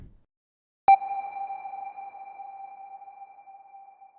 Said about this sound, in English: You can control the time that you want this reverb to last for